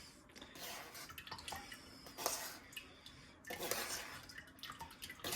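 Crabapple pulp being scooped out of a container in a home kitchen for compost, heard as close wet scraping and clattering utensil-on-dish sounds with drips. Two louder bursts of scraping stand out against a steady background.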